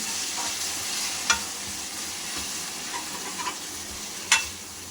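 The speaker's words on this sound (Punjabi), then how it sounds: "ਹੁਣ ਅਸੀਂ ਟਮਾਟਰ ਪਾਵਾਂਗੇ ਟਮਾਟਰਾਂ ਨੂੰ ਚੰਗੀ ਤਰ੍ਹਾਂ ਭੁੰਨਾਂਗੇ" Chopped tomatoes fry with browned onions in a pot for ghiya dal, giving a steady hiss with a couple of sharp scrapes and clanks of the spatula against the pan.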